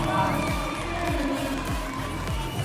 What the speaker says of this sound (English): You can hear the crowd as well in the background.